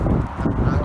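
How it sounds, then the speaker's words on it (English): A very young goose honks while being fed, a few close nasal calls mixed with soft voices nearby. "It's Jess feeding a very young geese, a goose I should say"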